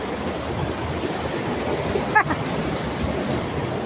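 Steady rushing of the Rani Khola river stream, a constant broad wash of water with one brief knock near the middle.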